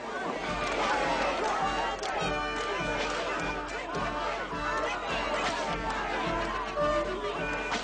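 A dense crowd of onlookers at a public flogging in a 1977 film of The Hunchback of Notre Dame, roaring and jeering in a continuous loud wash of voices, with music layered underneath.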